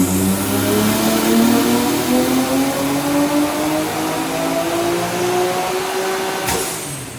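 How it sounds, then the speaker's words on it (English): A car with a stock Nissan RB25DET engine revs up from close by, its pitch climbing steadily in a long, loud rising sweep before dropping off sharply near the end. "We got Preston's car up and running"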